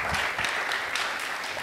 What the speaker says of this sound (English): Can we have a welcoming round of applause for Senator Peterson?